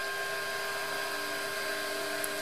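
RepRap 3D printer extruding plastic as it prints, a steady whining motor hum with sustained tonal pitches, close and continuous without pause.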